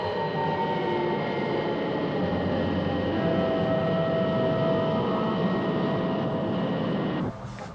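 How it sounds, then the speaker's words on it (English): Spacecraft docking effect from a 1970 sci-fi TV series: a steady, dense mechanical roar with sustained hums and shifting tones, continuous for several seconds before dropping abruptly near the end. "The lunar module with Colonel Freeman on board is docking now"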